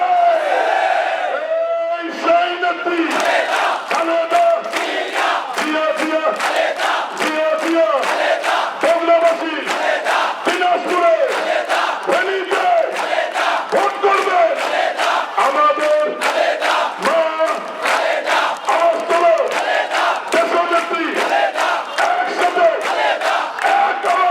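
Large political rally crowd in Shibganj, Bogura, chanting slogans in loud, rhythmic unison, a leader's calls answered by massed voices in steady repeated bursts.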